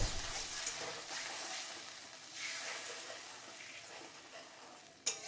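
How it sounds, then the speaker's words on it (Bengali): Spice paste with a little added water simmers and sizzles steadily in a pan for a mixed-vegetable curry, a continuous close hiss with a faint clink near the end and no talking. "এবার আমি একটু জল দিয়ে দিলাম যাতে মশলাটা খুব ভালো করে ফুটিয়ে নেব"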